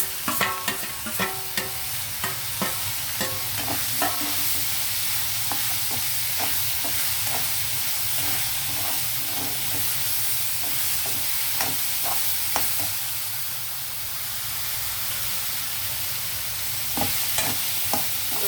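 Mixed vegetables with capsicum and coriander stir-frying in a pan, a steady soft sizzle broken by repeated spatula scrapes and taps, close, with no talk.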